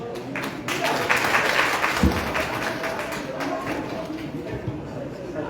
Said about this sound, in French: qui nous demande d'applaudissements